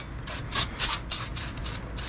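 Brake cleaner sprayed onto the rear brakes of a 2019 Mercedes-Benz Sprinter van comes in a series of short, sharp hissing bursts close by.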